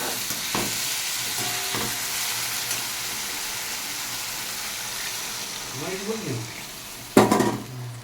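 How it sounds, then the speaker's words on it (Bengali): Water goes into a pan of well-fried spice paste, with a steady close sizzle, a few scraping stirs, and a sharp hissing surge near the end. "মশলাটা কষানো হয়ে গেছে আমি এবার জল দিয়ে দিচ্ছি"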